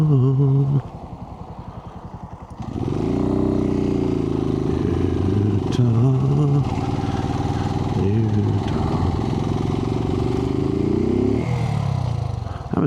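A Suzuki TU250X single-cylinder motorcycle idles briefly, then pulls away and holds third gear with a steady, throbbing engine drone, loud and close, easing off near the end.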